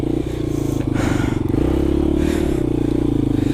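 A motorcycle taking off, its engine loud and close with a steady pulsing rumble that rises slightly as it accelerates.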